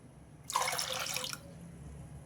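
A short, quiet splash of water pours into a pot of red lentils for under a second, then fades back to near silence.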